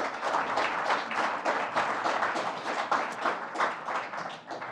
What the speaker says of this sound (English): let's give them all a big round of applause here